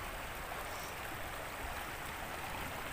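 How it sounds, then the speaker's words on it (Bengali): Steady rushing flow of a natural stream, a continuous broadband wash of water that stays even and moderately quiet throughout, with no voices. "জলের শব্দটা, ও"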